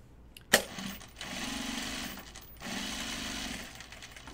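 A sewing machine stitches a fabric pocket bucket in two short bursts of steady whirring, separated by a brief pause for pivoting at a corner, preceded by a sharp click.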